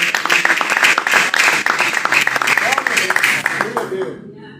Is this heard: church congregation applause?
yes